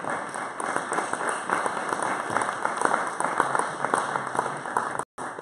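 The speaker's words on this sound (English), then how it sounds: "Okay, a round of applause for their leadership and their support." A round of applause fills the room at a briefing on freedom and democracy for Venezuela, steady, dense clapping from an audience that carries on evenly before cutting off abruptly near the end.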